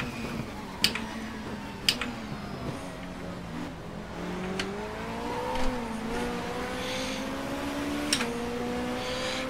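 Race car engine in the video game Race 07 WTCC at the Porto circuit, revving and shifting steadily with rising and falling pitch, sharp clicks of gear changes punctuating the drone, no talk.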